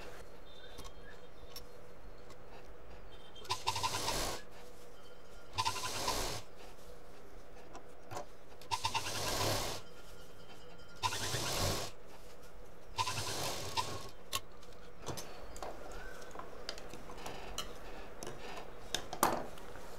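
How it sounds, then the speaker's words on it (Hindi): A sewing machine runs in repeated short bursts as it stitches in a curve around a handmade zipless fabric handbag, each burst a few seconds long with quiet handling between, close up and without talk. "बाकी चारों तरफ गोलाई में मशीन चला देंगे"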